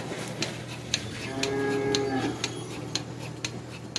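A dairy cow lows once in a soft, drawn-out moo at a barn during morning milking, heard at moderate distance over steady machinery hum and regular ticking clicks, with no talking.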